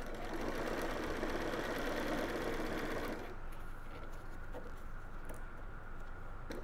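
A sewing machine runs a 5 mm seam on fabric for reusable snack bags, a fast continuous mechanical whir of stitching that drops to a lighter, quieter hum partway through, close up with no voices.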